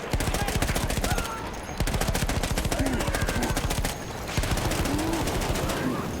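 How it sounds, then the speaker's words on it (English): Sustained rapid automatic gunfire in the World War I shooter Battlefield 1, dense rhythmic bursts nearly nonstop with two brief pauses, loud and close, while a voice talks faintly underneath. "Who the fuck is shooting me?"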